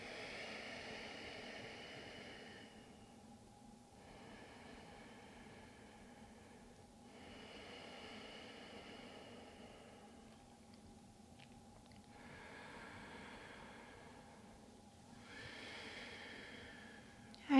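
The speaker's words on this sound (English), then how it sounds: "we'll stay here for 3 more deep breaths" Slow, deep breaths during a standing pelvic floor stretch, soft and close with a steady in-and-out rhythm, each long airy exhale rising at regular intervals over a quiet background with no talking.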